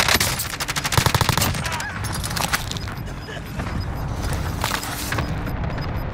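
Dense in-game gunfire in Call of Duty: Modern Warfare, rapid automatic bursts and repeated shots, loudest in the first couple of seconds and then continuing steadily under a busy battle mix.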